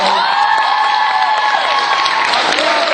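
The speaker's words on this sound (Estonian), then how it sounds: "Plaksutage Raelile." An audience applauding and cheering for a person named Rael at an annual awards event, loud, dense clapping with shouts and whoops, close and sustained through the whole moment.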